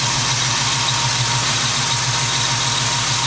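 A classic Oldsmobile engine with its original radiator and fan idling in the engine bay, a loud, steady low rumble with an even mechanical throb heard close up, with no voices.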